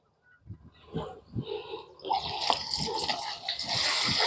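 Borewell water pours into a 1-litre bottle, starting with a few faint gurgles and splashes, then building into a steady, louder gushing stream.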